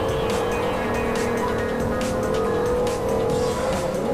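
Car racing in Forza 4 with a loud, steady engine drone and sustained tire squeal throughout, close and continuous with no talking.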